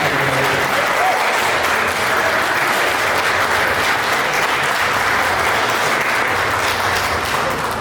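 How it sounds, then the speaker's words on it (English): A dense wash of audience applause fills the room at a bicentennial bell unveiling, steady and loud throughout with no pauses, many hands clapping at once. "I would ask all of you to give a round of applause"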